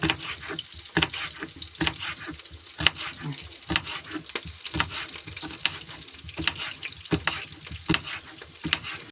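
Thin strips of vegetables sizzle and fry in a pan, a steady crackling hiss broken by frequent clicks and scrapes of stirring, close and fairly loud.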